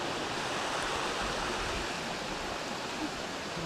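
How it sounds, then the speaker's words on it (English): Small cascading waterfall rushing steadily outdoors, a continuous broad wash of water noise that is close and fairly loud, with no break or change in intensity. "Nice little cascade of waterfall there."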